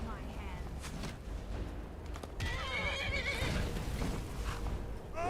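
Horse whinnying in the video game Skyrim, with hoof clip-clops and combat noise around it, a loud neigh rising out of a busy game soundscape.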